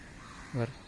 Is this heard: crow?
yes